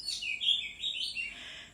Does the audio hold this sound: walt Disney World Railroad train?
no